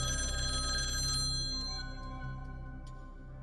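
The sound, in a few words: telephone ringing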